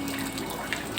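Water runs steadily through an aquaponics downspout in a short, continuous wash of flowing sound with no talk.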